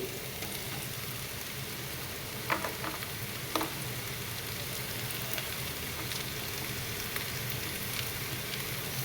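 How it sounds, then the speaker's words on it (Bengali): Capsicum and other vegetables fry in a pan for a paneer dish, with a steady, close sizzle throughout and a couple of brief stirring clicks near the middle. No talking. "তার জন্যই একটু অল্প অল্প করেই আমি ভাজবো সব কিছু।"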